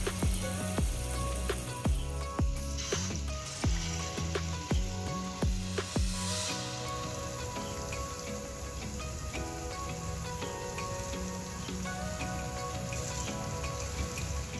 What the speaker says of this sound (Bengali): একইভাবে বাকি বড়াগুলোকেও ভেজে নেব